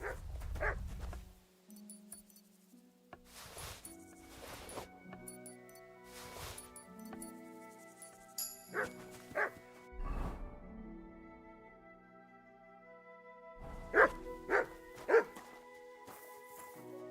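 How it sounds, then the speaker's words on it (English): Dog barking and yipping in the medieval role-playing game Kingdom Come: Deliverance 2, several short bursts over game ambience with faint clinks, a few loud close barks near the end. "Here, Mutt"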